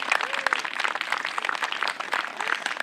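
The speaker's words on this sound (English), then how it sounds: "Could we get a round of applause for all these amazing people?" An event crowd applauds its volunteers, a lively patter of many hands clapping at moderate volume, steady for a few seconds with faint voices mixed in.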